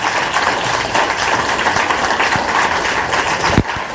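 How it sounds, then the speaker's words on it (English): Audience at a League of Women Voters candidate forum applauding, a loud, steady wash of many hands clapping that carries on for several seconds without a break. "let's have a good round of applause for these last 3 candidates"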